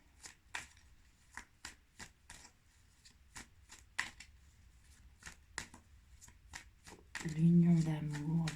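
Oracle cards shuffled and drawn for a reading: crisp riffling snaps and slaps recur in an irregular rhythm, close and clear, before a louder patch of voice-like sound at the end.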